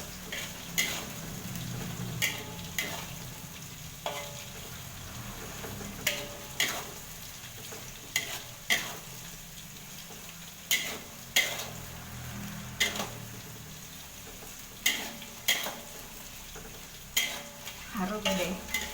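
Shrimp paste (terasi) being crushed and stirred in a hot pan while cooking Bangka-style pindang tenggiri fish, with sharp, irregular scraping and tapping of a utensil against the pan over a low sizzle, no talking.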